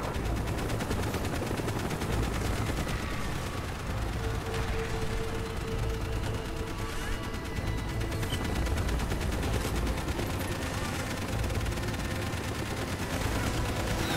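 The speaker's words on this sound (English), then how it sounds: "Oh great, right directly into gunfire." Sustained gunfire in Call of Duty: Black Ops, a dense continuous rattle of automatic weapons and shots running throughout, loud and close amid the game's battle noise.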